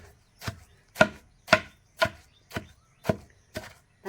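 Red chilli paste with salt and a pinch of turmeric is pounded by hand in steady strokes, about eight close, evenly spaced thuds roughly half a second apart, with no voices.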